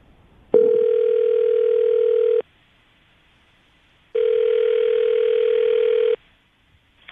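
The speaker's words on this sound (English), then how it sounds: "I'm going to call him right now, see if we can get him on the phone" A telephone call rings out during a radio show, with two clean, steady ringback tones of about two seconds each separated by silence, followed by a faint click.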